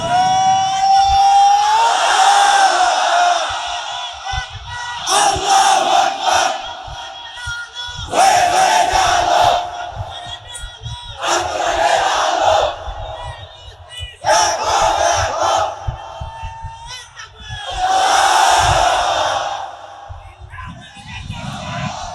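A large crowd at a Bangladeshi Islamic waz sermon roars Allahu Akbar in unison, answering repeated takbir calls in loud, echoing bursts of chanting that rise and fade roughly every few seconds.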